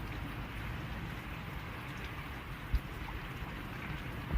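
Rain falls steadily on a rainy day as a soft, even hiss with no distinct drops standing out, quiet and unbroken apart from one faint low knock.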